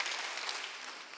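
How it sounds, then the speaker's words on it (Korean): A church congregation at a Sunday worship service gives a brief, steady burst of applause, fairly soft and even throughout. "박수하세요"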